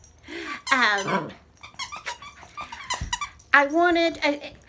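Dogs play fighting indoors, with sharp squeaky yelps and whines and short growly bursts coming in uneven clusters close by, with a person talking between them.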